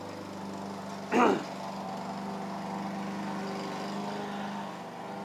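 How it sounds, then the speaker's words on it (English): A lawn mower drones steadily nearby, a constant engine hum running throughout at moderate volume, briefly masked by a short voice near the start. "Now he's probably going to mow here and just destroy our video."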